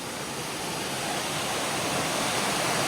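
Laurel Creek rushes under a bridge on a trail, a steady, close, full-bodied wash of flowing water that slowly swells a little louder, with no voices.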